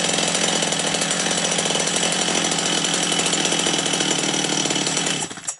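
A Stihl 230 chainsaw on factory carburetor settings runs close and loud at a steady high-revving buzz for several seconds, then cuts off abruptly at the end.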